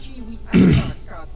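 A single short, gruff throat clearing, close and fairly loud, standing out briefly against a quiet background.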